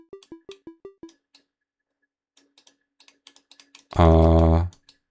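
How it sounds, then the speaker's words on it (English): Computer mouse clicks while playing a Pac-Man-style game: a quick run of six evenly spaced clicks, then scattered sparse clicks, close and dry, briefly interrupted by a loud electronic game tone. "I think you can hear my mouse clicks"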